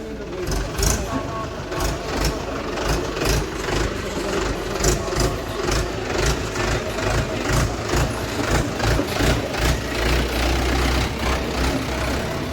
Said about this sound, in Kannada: ಟ್ರ್ಯಾಕ್ಟರ್ ನೋಡಿ